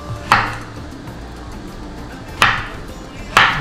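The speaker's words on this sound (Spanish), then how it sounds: "Primero vamos a picar la piña." A knife chopping pineapple on a cutting board, three sharp separate thuds spaced irregularly over a quiet background.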